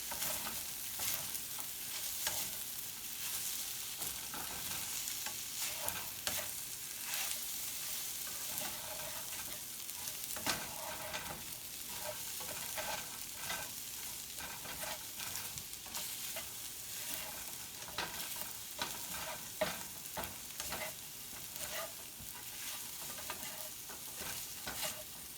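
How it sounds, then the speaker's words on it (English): Scrambled eggs stirred in a frying pan: a continuous loud sizzle runs throughout with constant scraping and stirring of a utensil against the pan, close up and with no talk. "make sure you hold the pan while doing this so none of the eggs fall out"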